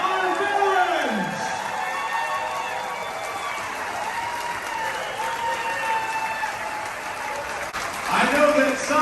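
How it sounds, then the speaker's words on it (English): A cruise ship crowd gives a huge round of applause for veterans during a Veterans Day party on Harmony of the Seas, with steady clapping and cheering throughout that swells louder near the end, voices mixed into the noise. "to a huge round of applause. Give it up for our veterans!"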